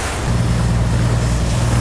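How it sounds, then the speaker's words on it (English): Choppy ocean waves slap around a boat rounding an island point off Keelung in northern Taiwan, a steady loud wash of surf mixed with wind buffeting the microphone and a low engine drone. "as we round the point, the waves get bigger here"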